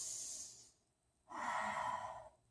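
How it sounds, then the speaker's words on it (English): Deep breathing during a beginner yoga session: one long, airy inhale, a short pause, then a slow, audible exhale, close and soft, with no talking. "We're just going to take a nice couple deep breaths"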